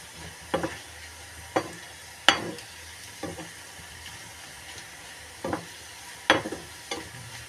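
Spices tempering in hot oil for dal give a quiet sizzle broken by several sharp crackles and pops that spit out at uneven intervals.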